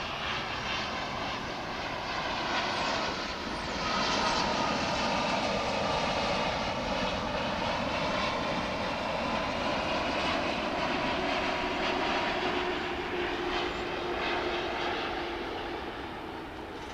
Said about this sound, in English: this will be a Dreamliner, American Airlines Flight 1116, coming in from Kahului